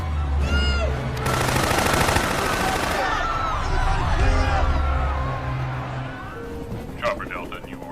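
Bursts of rapid gunfire and sharp shots from soldiers in a Resident Evil film crackle over a dramatic soundtrack, with shouting voices and action noise mixed in.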